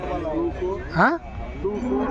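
A single cow lets out a short moo, rising then falling, while people talk in the background at a cattle market in Punganur.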